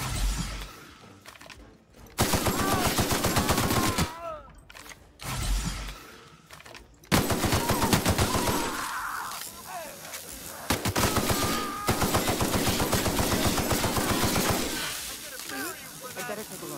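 Gunfire in the video game The Outer Worlds: bursts of rapid automatic fire and creaking mechanical clatter, loud and sustained through most of the stretch, broken by short gaps, with talking underneath.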